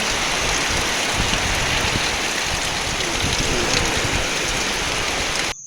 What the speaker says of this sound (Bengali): দেখো কী হারে বৃষ্টি